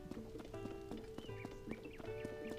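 Horse hooves clip-clop in a steady rhythmic gait in The Legend of Zelda: Tears of the Kingdom, close and fairly quiet, with a horse's whinny rising over the hoofbeats and a tonal game music bed underneath.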